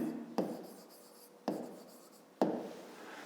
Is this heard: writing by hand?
yes